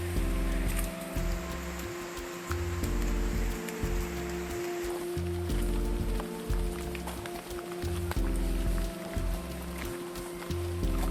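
Rain falls at a campsite by a dam, a dense steady patter on surfaces mixed with a low rumbling, rhythmic engine-like drone throughout.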